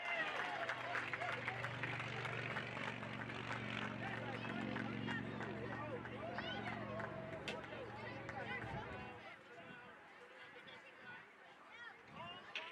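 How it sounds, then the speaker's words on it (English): Crowd applause and cheering for the Cascia Hall 6th grade football champions at a youth championship game, loud and sustained with chatter mixed in, fading after about nine seconds. "Let's give one more big round of applause for your Cascia Hall champions of 6th grade."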